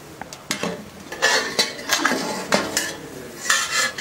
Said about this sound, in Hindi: और हम इसको अच्छी तरह मिक्स करेंगे।